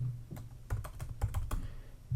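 Keys clatter on a computer keyboard as a CSS comment is typed, an irregular run of crisp close clicks with a few quick bursts and short pauses between strokes.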